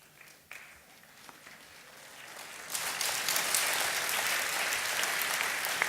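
Studio audience applause on a Cologne dialect quiz show, starting faint and swelling from about the third second into a dense, loud, sustained round of clapping.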